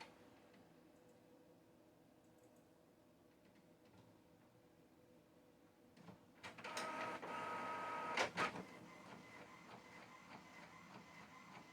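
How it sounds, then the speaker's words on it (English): Home printer starting up and printing, quiet at first, then a louder stretch of whirring feed and mechanical clicks and ticks midway before settling into a softer hum. "You'll hear my printer go off."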